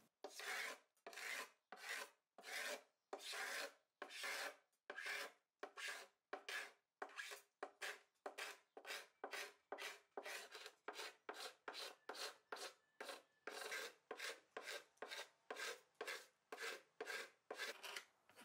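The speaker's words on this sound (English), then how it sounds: "It's actually not hard to scrape paint off of it" A scraper strips paint off the body of a vintage electric guitar in fast, rhythmic rasping strokes. Each stroke is a close, crisp scrape, repeated steadily with no talk.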